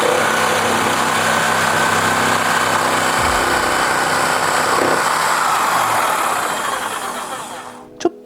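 A WORKPRO 600W jigsaw cuts with orbital action switched off, giving a loud, steady high-pitched whine and rattle that fades near the end, followed by a single sharp click.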